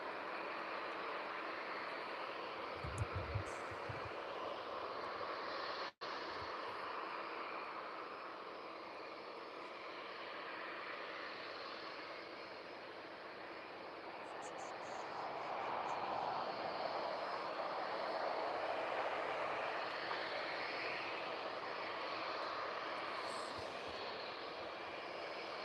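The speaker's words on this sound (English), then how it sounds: "The 777 Aerologic" Engines of an Aerologic Boeing 777 cargo jet at East Midlands Airport, a steady broad roar that swells and fades gently, heard from a distance with continuous wideband rumble throughout.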